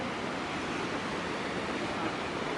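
A river rushes through a canyon below the Zovik bridge in Macedonia, a loud, constant broadband roar of flowing water that stays unbroken throughout with no voices.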